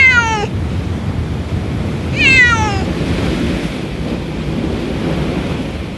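Two cats on a rocky jetty by the ocean near Oxnard, California, give two distinct meows, the second longer and rising, over a steady wash of surf and wind.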